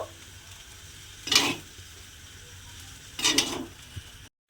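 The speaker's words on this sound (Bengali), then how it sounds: "দেখুন এটাকে কিন্তু আবারও আমি খুব ভালোভাবে একটু এইভাবেই মিশিয়ে নেব।" Mixed fried rice with vinegar sizzles in a pan while two separate bursts of vigorous stirring scrape through it over a steady low hiss.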